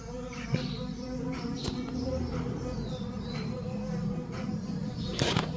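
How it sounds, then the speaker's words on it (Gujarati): A wasp buzzes and hovers near a hospital setting during cable repair work, with faint buzzing under a steady noisy background and occasional knocks. "ભમરી છે ભમરી"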